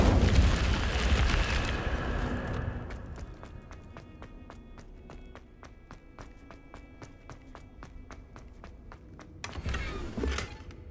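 A fire spell blast in Hogwarts Legacy bursts out loud at the start, followed by a fading crackle with rapid regular ticks, then a second brief flare near the end.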